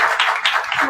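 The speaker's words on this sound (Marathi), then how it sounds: "जय दादांसाठी एकदा टाळ्या वाजवा जोरदार" Audience clapping at a devotional kirtan gathering, close and loud, with rhythmic bursts of many hands in a quick, uneven beat over about a second.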